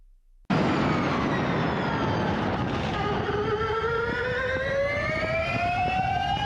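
Porsche GT4E electric race car accelerating, a loud sudden onset into a dense whine with rising electric-motor tones sweeping upward over road and wind roar, close and continuous.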